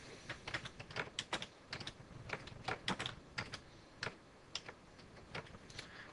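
Computer keyboard clatters under quick bursts of keystrokes, irregular taps and clusters of clicks, fairly close and quiet, with no voice.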